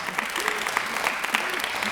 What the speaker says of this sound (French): les applaudissements sont nécessaires